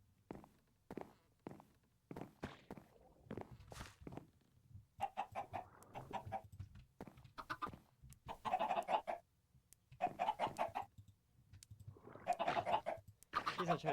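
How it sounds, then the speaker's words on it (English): Chicken clucking in Minecraft, short blocky clucks and footstep-like taps scattered through, with game noise and bursts of broadband sound, no talk heard. "That chicken's actually lasted quite a while."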